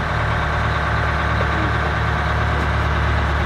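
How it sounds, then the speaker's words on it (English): A trawler's second engine idling steadily, a loud continuous low chugging rumble with no voices. "I got the second engine running"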